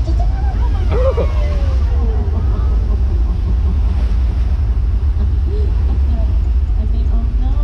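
A simulated flash flood on the Universal Studios Hollywood studio tour sends a steady, loud roar of rushing water and spray past the tram, filling the whole stretch without letup.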